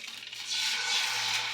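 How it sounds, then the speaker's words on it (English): Eggs fry in oil in a cast iron pan, giving a steady, bright sizzling hiss that swells in after a brief quieter moment and then holds evenly, close up and without talk. "you can hear the sizzle"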